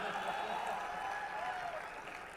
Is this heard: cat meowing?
no